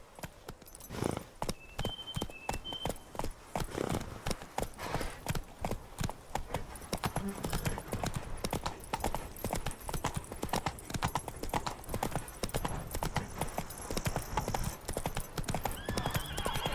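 Roach, Geralt's horse in The Witcher 3: Blood and Wine, gallops with rapid steady clip-clop hoofbeats that run unbroken throughout, close and prominent, with a brief whinny near the start.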